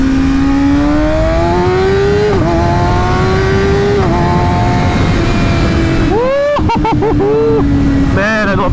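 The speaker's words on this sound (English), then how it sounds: "Man, I love the sound of this bike." A Kawasaki ZX6R supersport is ridden hard, its engine screaming to high revs and climbing repeatedly, then dropping with quick upshifts. The sound is loud and close, with rushing wind throughout.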